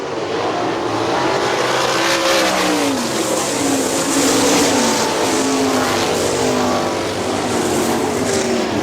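A pack of 410 sprint cars roars around the Hartford Speedway Park dirt oval, engines loud and continuous with rising and falling pitch as cars pass close by.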